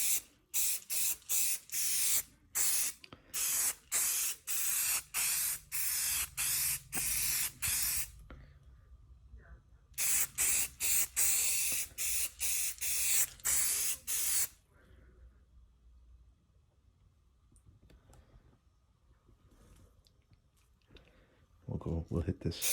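White leather repair base coat is sprayed onto a VW Cabriolet car seat in short, repeated hissing bursts, loud and close, with brief pauses between pumps and a longer spray run after a gap.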